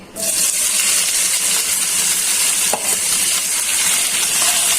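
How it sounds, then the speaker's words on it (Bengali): Steady loud sizzling of boiled bitter gourd and potato frying in hot oil, a continuous hiss throughout with a brief clatter near the middle. "এখন ওই করলাটা আর আলুটা সিদ্ধ হয়েছে, একটু তেলে ভেজে নিচ্ছি"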